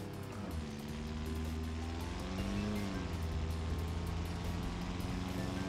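Four-cylinder engine of a Gavril Vertex car in the BeamNG Drive driving game, a steady droning hum that rises and dips slightly in pitch as the car is driven, continuous and fairly quiet with no talk.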